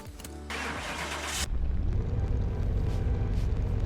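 A modded station wagon in Car Mechanic Simulator 2021 cranks over briefly, then catches and settles into a steady, rumbling idle that grows slightly louder and carries on alone with no talk.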